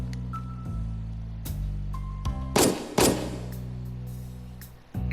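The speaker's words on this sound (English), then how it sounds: "It sounds like gunshots" Two sharp, booming gunshot-like bangs in the video game Inspector Waffles ring out close together over a steady low hum, with a few softer thumps and clicks around them.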